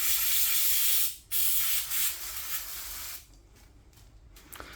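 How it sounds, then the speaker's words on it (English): Aerosol can of brake cleaner sprayed in a loud, steady hiss onto a brush, with a brief gap near the first second and a quieter final stretch as the spraying eases off. "Hit this with a bit of brake clean to clean it off."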